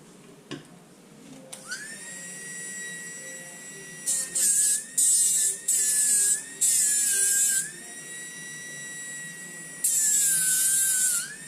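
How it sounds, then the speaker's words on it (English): A high-pitched rotary power tool sands inlay stones for silver earrings, whining in several bursts of a few seconds each with brief pauses between, close and loud with no talking. "now we're going to sand and fit these stones to the earrings"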